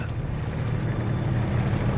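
A low, steady rumble of a boat engine in the video game Kona II: Brume, with wind and water noise, continuous and moderately loud throughout.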